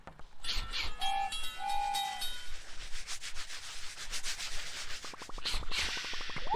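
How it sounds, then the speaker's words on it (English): Cartoonish train pulling into a station in the video game Choo Choo Crossing: short whistle toots early on, then grinding, rubbing rail noise and a fast clattering rhythm as it comes in, with no talking. "The train has arrived."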